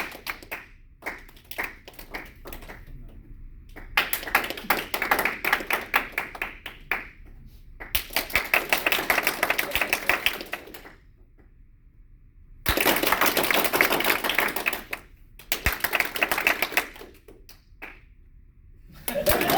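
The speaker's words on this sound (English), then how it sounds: "So just clap for whoever you want out." Comedy-show audience clapping to vote a performer out of an improv scene, several bursts of applause separated by brief quiet gaps with scattered single claps, heard from inside the room.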